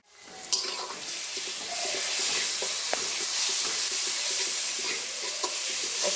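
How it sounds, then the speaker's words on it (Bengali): Ginger and garlic fry in hot oil in a pan while a home-style chicken and potato curry is being cooked. A loud, steady sizzle holds throughout, with a few brief clicks of stirring. "দিয়ে দিলাম আদা, দিয়ে দিলাম রসুন।"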